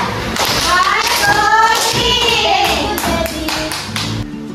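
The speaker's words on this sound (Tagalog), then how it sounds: "bigyan natin ng tatlong palakpak si Debbie dahil mahusay siya." Elementary students in a Filipino classroom lesson clap together in a short burst of sharp hand claps and thumps, mixed with children's voices and chatter throughout.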